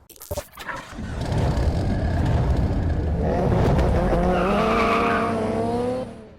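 A Mitsubishi Evo 8 with its 4G63 engine and over 200,000 miles revs up and drives, the engine note rising steadily under broadband road and tire noise before cutting off abruptly.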